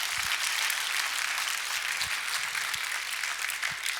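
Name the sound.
church congregation clapping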